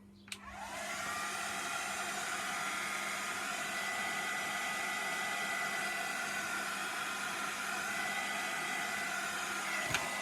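A heat tool blows steadily for about ten seconds while flash drying ink on a stamped paper card, a loud close whooshing roar starting and stopping abruptly.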